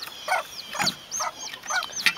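Repeated soft clucking calls from a hen in short bursts, with faint high peeps from chicks over a steady background hiss.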